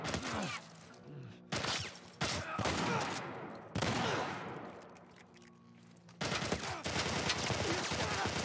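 Enemy gunfire in The Last of Us Part I, loud bursts of rapid shots separated by short silent gaps, with sharp cracks and echoing tails, no talking.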